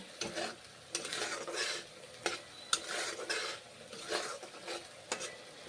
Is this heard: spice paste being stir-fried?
yes